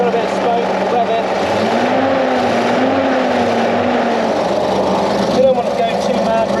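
An armoured car's engine idles and is revved at start-up, a loud, steady mechanical drone with a rising and falling tone, while people talk over it.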